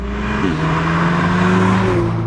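An Audi S3 engine hums loudly and steadily with a slight rise in pitch, a continuous mechanical drone without a big rev spike.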